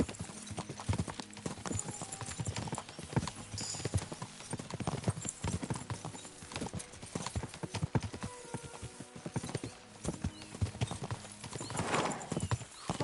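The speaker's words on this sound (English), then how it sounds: "We should spur the horses on." Horses' hooves clip-clop rapidly and steadily in Kingdom Come: Deliverance II, a galloping rhythm carried continuously over a background soundscape with occasional snorts.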